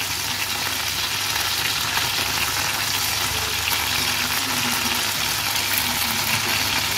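Pigeon meat fries in a pan for porridge, giving a steady, close, dense sizzle with no talking over it.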